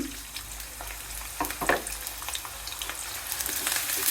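Chopped onions fry in oil in a pan as the start of a Kali Baush fish bhuna with peas: a continuous close sizzle, broken by a few short scrapes and stirring knocks, with no speech.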